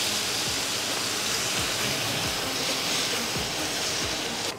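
Tomatoes hitting hot olive oil in a pan for a Provençal ratatouille give a loud, steady, close sizzling hiss that fills the whole stretch, with no talking.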